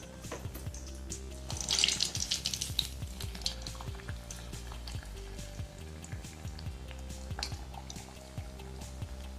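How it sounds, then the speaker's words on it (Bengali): Water is poured into a pan of sugar to make syrup for semolina malpua, a steady close splashing pour with a rising gurgle and a few clinks of the pan running throughout. "এখানে আমি একটু জল দিচ্ছি।"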